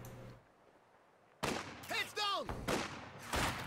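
Gunfire and explosive blasts from a World War II strategy video game battle, with sharp bursts and booms cutting in after a quiet start, mixed with short whistling and whooshing shell sounds, loud and close.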